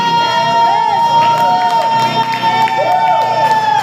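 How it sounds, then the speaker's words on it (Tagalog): Church congregation at a New Jerusalem gathering claps and cheers loudly, a dense roar of clapping mixed with shouting and excited voices throughout, with sustained tones ringing underneath. "Maraming palakpak!"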